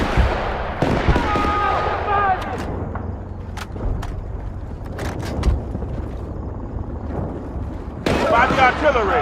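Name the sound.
artillery fire in video game Battlefield: Bad Company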